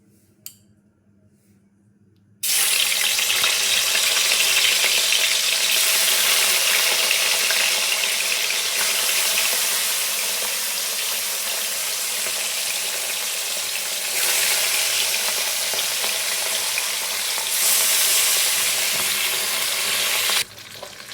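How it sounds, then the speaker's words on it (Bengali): Rui fish frying in hot oil: after a short quiet start, a loud, steady, dense sizzle begins abruptly and continues evenly, with only slight shifts in level, until it cuts off near the end. "মাছগুলো ভাজা হচ্ছে"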